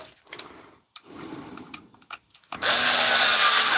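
A power drill or driver runs steadily after a few light handling knocks, driving screws into an M18 power tool battery pack, the motor whine loud and close.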